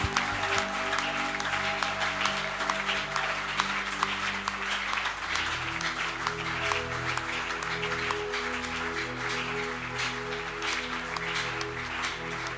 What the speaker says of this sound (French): Tu peux bien acclamer pour Jésus, acclame pour le Seigneur.